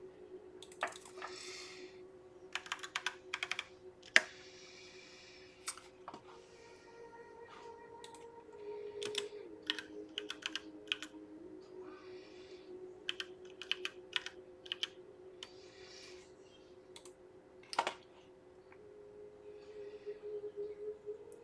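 Typing on a computer keyboard, quiet and fairly close, with irregular bursts of key clicks separated by pauses and a faint steady hum underneath.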